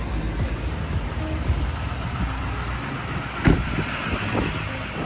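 A Chevrolet pickup truck with a 6.7 diesel engine idles as a low, steady rumble, with a few clicks and a brief bump partway through, outdoors with no talking.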